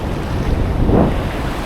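Sea waves wash in at a beach in Canada, a steady broadband rush of surf mixed with wind buffeting the microphone, swelling slightly near the middle, with no talking.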